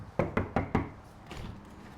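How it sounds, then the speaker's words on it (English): Four sharp, loud bangs on a door in quick succession, close by, followed by a fainter shuffling sound and then quiet. "I'm gonna bang on the door."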